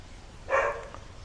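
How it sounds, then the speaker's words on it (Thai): A dog lets out a single short bark at moderate distance, standing out briefly against a quiet background hum. "มันจะเห่าแรงนะนี่"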